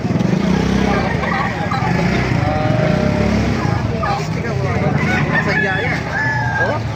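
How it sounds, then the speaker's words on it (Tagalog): Roosters crow repeatedly amid a constant clucking of many chickens inside a market in Baliuag, with people talking over the busy poultry din. "Ang daming manok dito sa loob"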